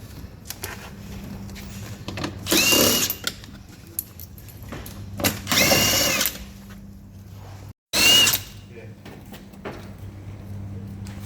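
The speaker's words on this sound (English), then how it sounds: "I'm just removing all my M6s, so the 10mm heads, from the bar" A power tool backs out M6 bolts with 10mm heads from a Rockarmor GT bull bar on a 300 Series Landcruiser, running in three short, loud, close bursts separated by quieter pauses.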